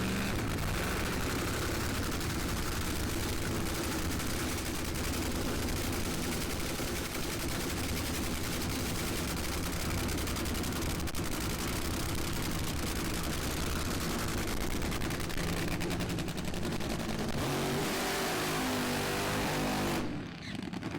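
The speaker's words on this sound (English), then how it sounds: "then they drop it, then they do their burnout" A DHL Toyota Supra funny car roars through a burnout at a drag strip, a loud, continuous crackling engine blast that fills nearly twenty seconds before cutting off abruptly near the end.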